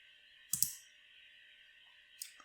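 A computer mouse clicks on an on-screen button, two sharp, close clicks about a second and a half apart over a faint steady electronic hum.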